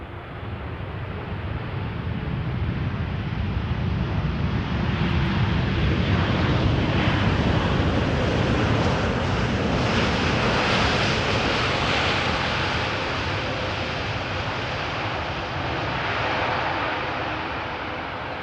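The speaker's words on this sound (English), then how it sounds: "Is this the Dreamliner from arriving from Austin?" A Boeing 787 Dreamliner arrives at Amsterdam Schiphol, a sustained broad jet roar that swells gently and stays strong for the whole stretch, heard from a distance over wind noise without talk.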